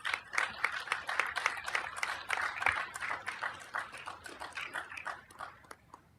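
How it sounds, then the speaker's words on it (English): A city council meeting audience applauds a proclamation recipient. Scattered hand claps come in a steady patter at moderate distance for several seconds, then thin out. "Let's give them a round of applause."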